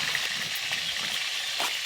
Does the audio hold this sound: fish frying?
yes